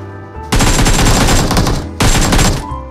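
Sustained bursts of automatic gunfire in the battle royale game BGMI, two loud, dense volleys with a short break between them, close and without speech.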